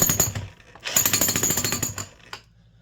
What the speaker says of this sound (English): And it's just like a big slow-moving jackhammer.